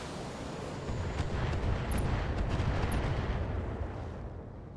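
Mech weapons firing together in BattleTech, a dense, sustained roar of heavy blasts and rumbling impacts that swells after the first second, carries on loud for several seconds and eases off toward the end.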